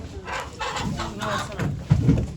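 Chickens and roosters sold for slaughter at an Ankara poultry auction cluck and call close by, under continuous talk from the people at the sale.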